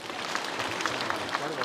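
Applause from a crowd of mourners at a funeral gathering in Nyamira, a steady wash of clapping lasting under two seconds with a talking voice mixed in.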